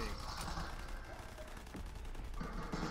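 Rapid video game gunfire rattles on throughout in dense, steady bursts at moderate loudness, with voices talking over it.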